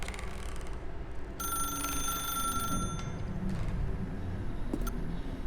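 A telephone rings in the video game The Stanley Parable, a bright electronic ring heard in one sustained burst of about a second and a half, moderately loud over a low ambient game hum, with no talking.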